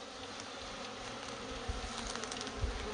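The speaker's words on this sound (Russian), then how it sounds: "Ну вот, практически все пчелки в районе." Bees swarm and buzz close by at night in a rural garden, a dense continuous hum with a few louder bumps and movements toward the end.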